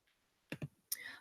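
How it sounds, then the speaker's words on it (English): A computer mouse gives two quick, close clicks in rapid succession, followed by a brief rustle or keyboard tap, all faint in a quiet room. "I'm going to click here a little bit to get my cursor in my typing area."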